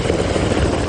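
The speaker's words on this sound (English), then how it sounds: "allowing helicopters to land and evacuate" Military helicopter rotors beating steadily and close, a dense continuous thrum with a low rhythmic chop as the aircraft come in to land for an evacuation of soldiers in Afghanistan.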